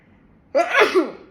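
A single close, sharp human sneeze bursts out abruptly after a moment of near silence, with a breathy tail.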